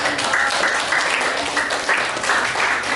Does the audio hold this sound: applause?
yes